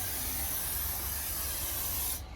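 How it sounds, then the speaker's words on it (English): Silicone spray hisses steadily from an aerosol can onto the locking strip of a window being fitted, a close, continuous spray lasting about two seconds before cutting off abruptly. "we're using silicone spray just to make life a bit easier"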